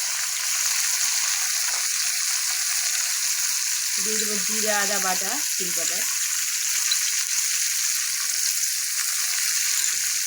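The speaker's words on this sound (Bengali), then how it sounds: "এই ফুলকপিটা দিয়ে দেবো, একসঙ্গে ভেজে নেব।" Cauliflower and potatoes frying together in a pan with salt, a steady close sizzle throughout, while someone speaks briefly in the middle.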